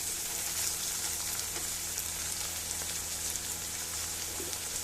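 Spices dropped one by one into hot oil in a frying pan, giving a steady, close sizzle with soft crackling pops.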